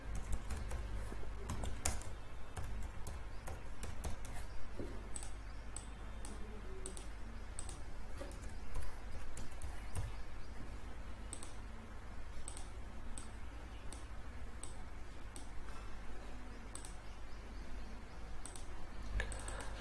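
Continuous close typing on a computer keyboard while working in MS Excel, dense rapid key clicks with occasional louder taps over a low steady hum, no talking.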